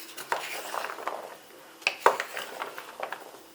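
Chopped hot peppers and garlic being mixed in a bowl for pickles, soft irregular clattering and wet shuffling of pieces, with a couple of sharper clinks, close and quiet.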